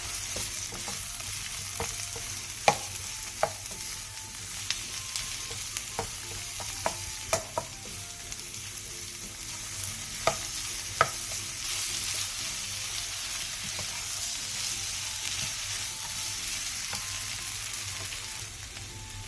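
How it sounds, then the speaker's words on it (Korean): Chopped onion and a spoonful of minced garlic fry in an oiled pan over medium-low heat, a soft steady sizzle broken by scattered light taps and scrapes of stirring, with no voices. "팬에 기름을 두르고 양파와 다진 마늘 1스푼을 넣고 양파가 투명해질 때까지 중약불에서 볶아주세요."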